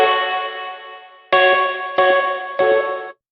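Rhodes electric piano chords pass through a plate reverb: a long sustained chord, then three sharper repeated strikes at a steady pulse, each ringing with bell-like overtones before stopping abruptly.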